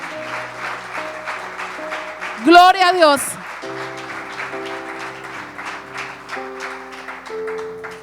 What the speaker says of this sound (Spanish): ¿Por qué no le da un fuerte aplauso al Señor por eso?